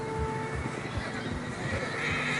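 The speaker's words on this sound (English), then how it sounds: "Horses are struggling." A horse whinnies in Red Dead Redemption 2 while struggling through fresh snow, a strained neigh over soft hoof thuds and a low ambient bed, fairly close and moderately loud.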